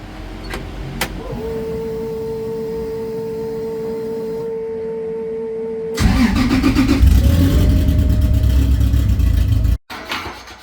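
A 2JZ engine swapped into a Nissan S14 cranks with a steady starter whine, then fires up abruptly into a loud, rough idle and revving that cuts off sharply near the end.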